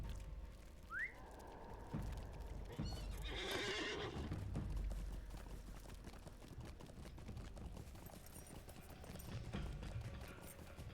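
Horse in a video game set on the road to the Trollshaws, a loud whinny near the start, then hooves clip-clopping in a fast gallop that carries on steadily to the end.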